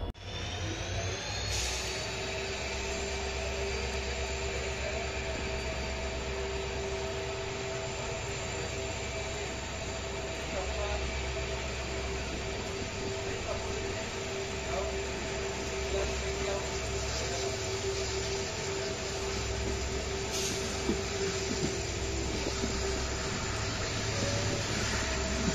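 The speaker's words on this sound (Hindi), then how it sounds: "तो चलिए आइए मैं आपको इस ट्रेन का डिपार्चर भी दिखा" Train departing a station on a rainy line toward Bhakra Nangal Dam in Himachal, with a steady loud rumble of wheels and engine and a long tonal whine throughout, plus brief horn-like blasts.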